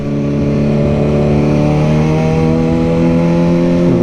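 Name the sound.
Mercedes car engine driving by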